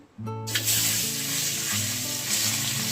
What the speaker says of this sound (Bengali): তেলটা আমার ভালোভাবে গরম হয়ে গেছে আমি এবার দিয়ে দেব ডিম